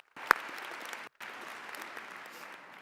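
Graduation audience at a spring convocation ceremony applauding in a large hall. The sustained, fairly soft clapping has a brief gap in the middle and one sharp, loud clap near the start.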